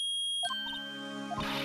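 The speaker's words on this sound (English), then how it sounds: "it's beeping! The metal detector's found something." A metal detector in the Phoenix Wright Ace Attorney video game gives quiet electronic beeps and chimes, a few short tones over a steady synthetic hum.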